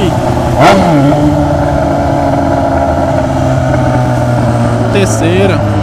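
A Yamaha FZ6 motorcycle engine idles and rises with quick throttle blips, close and loud, while someone talks over it.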